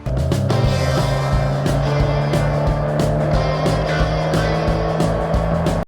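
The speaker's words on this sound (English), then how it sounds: "by simply adding a layer of music and some engine sounds" A revving engine drones steadily throughout, layered with music carrying a strong low tone, loud and continuous for the whole stretch.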